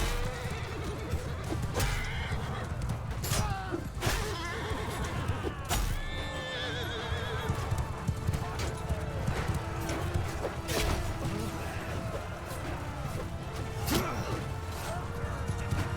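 Horses whinny and neigh repeatedly in a Mount & Blade II Bannerlord battle, with clip-clopping hooves and occasional crashes under a dense, continuous din of fighting.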